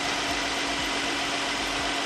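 A Hyundai Genesis sedan's 3.3-litre V6 Lambda engine idles steadily, a low, even hum with faint rhythmic pulsing, heard close and alone.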